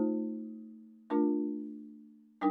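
Mallet instrument, likely vibraphone-style, plays jazz seventh chord voicings: a sustained chord ringing and slowly fading, a second struck chord at about one second decaying the same way, and a third strike at the end; soft, close, no voices.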